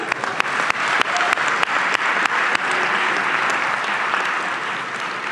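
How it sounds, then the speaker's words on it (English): An audience at a talk by a speaker breaks into sustained applause, with a few sharp claps at first that swell into a continuous, moderately loud roar of clapping. "And for that, you deserve an extra round of applause."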